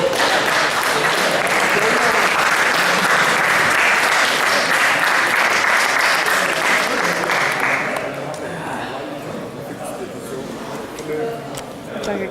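Sustained audience applause at the Grettismótið 2013 strongman competition, loud dense clapping for about eight seconds, then easing to a thinner patter with voices in the crowd.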